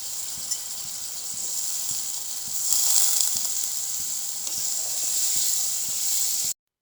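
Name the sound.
potatoes sautéed with spices for catla fish curry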